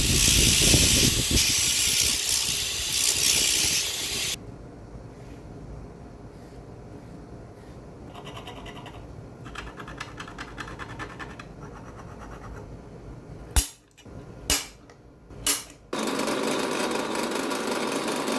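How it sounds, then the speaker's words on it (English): An aggressive wire wheel scours scale off a steel blank, giving a loud, harsh scratching roar that cuts out into quieter workshop noise, then returns in bursts and a final sustained run. "Here I'm using a very aggressive wire wheel to get as much of the scale off."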